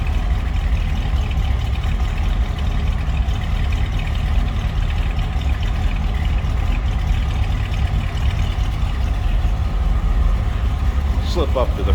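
A 1964 Buick Riviera idling, its exhaust putting out a low, steady, even rumble close by that holds without revving.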